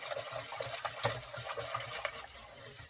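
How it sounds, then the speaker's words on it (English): Spoon stirring a non-dairy ice cream mixture of almond and coconut milk in a bowl, a close, steady run of soft scraping and sloshing strokes with light clinks, with no talking. "Now we're just going to mix everything up."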